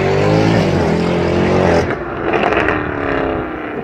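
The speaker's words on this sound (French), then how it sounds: "c'est vraiment genre pour le son, genre le son du moteur, quand t'es un pur passionné, tu peux pas te lasser d'un tel son" An Audi RS engine roars loudly and close, holding a rich high-revving tone before dropping off sharply into a lower rumbling burble as the revs fall.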